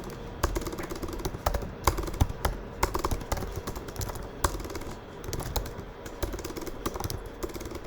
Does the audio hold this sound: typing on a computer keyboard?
yes